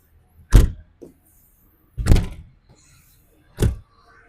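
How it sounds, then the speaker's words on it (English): Exterior compartment doors on a 2026 Newmar Ventana 4037 motorhome are shut one at a time, three solid thuds spaced about a second and a half apart, close and fairly loud with quiet gaps between. "I'm going to shut those compartments since we're putting a slide out here"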